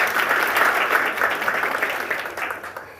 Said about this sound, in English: I think each one of you deserves a round of applause for that